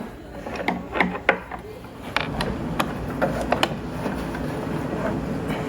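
An antique gramophone spring motor unwinding on the bench, a quiet whirring mechanism with a series of sharp clicks and clacks early on, then a steadier mechanical run, with faint talk in the background.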